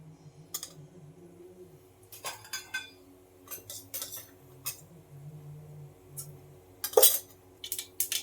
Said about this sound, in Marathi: बघा राई तडतडली व्यवस्थित